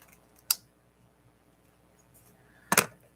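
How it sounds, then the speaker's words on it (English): Two crisp, isolated snips of scissors cutting paper to trim corners, close and sharp, separated by a quiet pause of about two seconds. "Nope, I'm doing it with the scissors."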